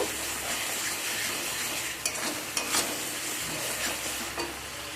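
Tomato masala sautéed and stirred in a pan, a dense continuous sizzle with a few scattered scrapes and knocks of the spoon, close and steady, no one speaking.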